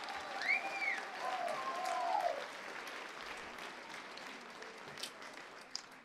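Applause from an audience at a festive evening celebration, a dense steady wash of clapping lasting several seconds, with a few whistles or cheers rising above it early on before it thins slightly toward the end.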